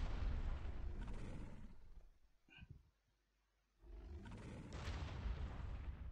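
Heavy booming blasts from a Garry's Mod battle between a T-Rex and a Doom Cyber Demon, loud and sustained, dropping to near silence midway before another roaring barrage resumes.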